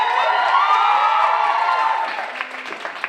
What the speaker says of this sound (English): let's cheer for them one more time